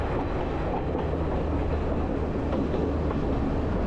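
Passenger train running the Kandy to Ella line in Sri Lanka, a steady loud rumble of wheels and carriages with faint clickety-clack throughout, heard from on board with no talking.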